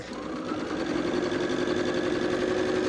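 A sewing machine stitches a straight seam piecing quilt fabric, a continuous fast, even whirr with a steady mechanical hum, close and moderately loud, with no talking.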